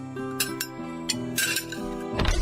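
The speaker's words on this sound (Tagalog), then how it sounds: "maglagay na tayo ng mga plato at kubyertos dito sa lamesa" Plates and cutlery being set on a dining table, with several close, bright clinks and clatters of dishes and silverware in quick succession, no voices.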